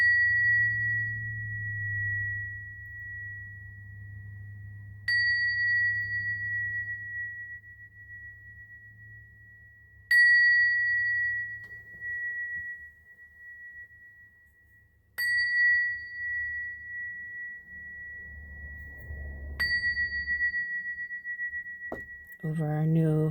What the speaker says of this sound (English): going to ring some bells.